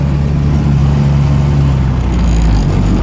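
A Heinkel Kabine microcar engine pulls hard in second gear during a road test, a loud, steady, close droning hum with a low buzzy tone that rises slightly over the few seconds.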